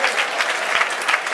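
A concert crowd at Fort Benning breaks into dense, sustained applause, loud and close, with scattered louder claps standing out.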